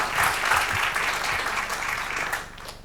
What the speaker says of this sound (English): how about a round of applause for that group